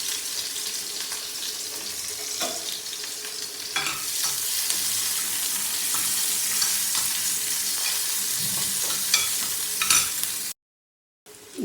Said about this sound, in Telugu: ఉల్లిపాయ, పచ్చిమిరపకాయ వేస్తున్నాను